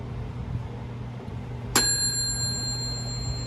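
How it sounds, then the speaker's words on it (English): A single sharp ding from the bell of a vintage General Electric Toast-R-Oven as its thermostat switches off, ringing clear and close before fading slowly over a low background hum. "The solenoid pulls the switch out of the way, and it turns it off and rings the bell."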